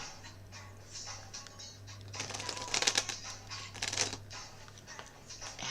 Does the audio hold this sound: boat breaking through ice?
no